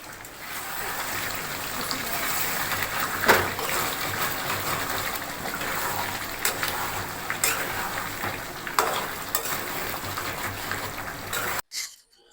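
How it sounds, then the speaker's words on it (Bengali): Beef kala bhuna fries in a pan as it is stirred, a steady soft sizzle with occasional scraping spoon strokes, close and moderate, ending abruptly. "পানি দেওয়ার পর মাংস আবারও ভালো মতো একদম ভাজা ভাজা করে নিচ্ছি"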